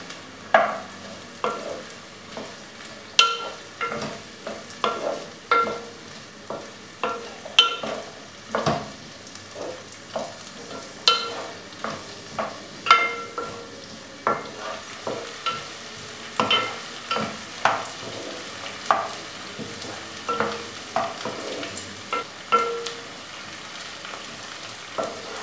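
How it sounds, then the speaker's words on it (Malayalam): Shallots, ginger, garlic and green chili sauté in a pan for a Kerala-style mutton korma, with a steady sizzle broken by repeated scraping stir strokes in a regular rhythm, close and clear with no talking. "നമുക്കിതിലേക്ക് അരിഞ്ഞു വെച്ചിരിക്കുന്ന ചുവന്നുള്ളി ഇടാം. ഇഞ്ചി വെളുത്തുള്ളി പച്ചമുളകും കൂടെ ഇടാം. നമുക്കിതൊന്ന് വഴറ്റാം."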